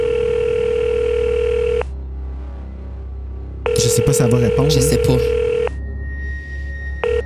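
A phone call placed from a handset: tone bursts and a ringback tone sound in two long stretches, with a voice talking briefly between them.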